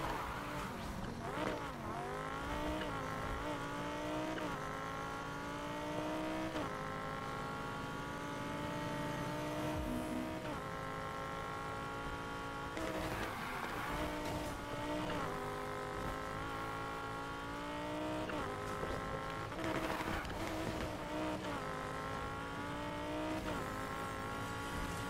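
A car spinning out in Need for Speed Heat, its engine revving and shifting through rising and falling pitches with tire squeal and skidding, a loud continuous roar broken by repeated gear changes over about twenty-five seconds.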